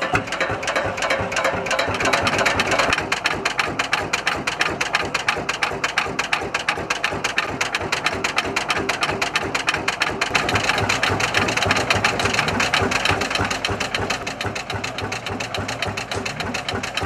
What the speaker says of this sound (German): Gestartet wird selbstverständlich mittels Schwungrad.